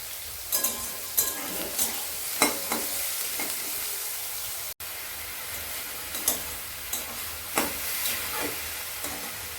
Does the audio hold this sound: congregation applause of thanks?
no